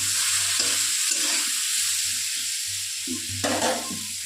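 Taro and shrimp sizzle and crackle steadily in hot oil in a pan, with soft stirring scrapes in the foreground.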